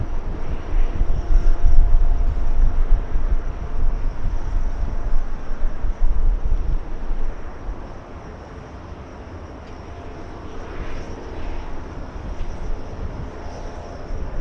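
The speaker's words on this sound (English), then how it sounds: "All right, the takeoff, flying to Vegas. We have Frontier" A Frontier airliner, flight 1184, takes off from LAX bound for Las Vegas, its jet engines a loud, broad roar that swells and then eases as it climbs away.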